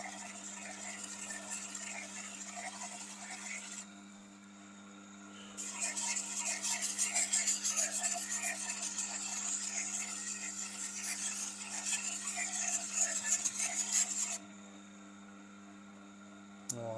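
A knife is honed on a Tormek sharpener, making a steady rubbing, rasping sound over a constant low motor hum. The rasp pauses briefly, then comes back louder and continuous before easing off again.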